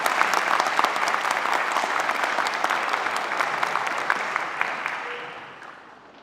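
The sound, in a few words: audience applause for a speaker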